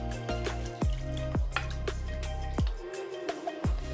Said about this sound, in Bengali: আর এর মধ্যে একটু ঠান্ডা জল দেবো।